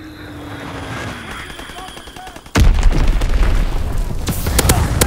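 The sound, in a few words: incoming artillery explosions in Call of Duty WWII video game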